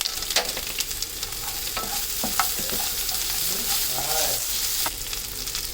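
Onions sautéing in a pan for sambar give a steady close sizzle, with scattered scrapes and clinks of a stirring spoon over several seconds and no talking.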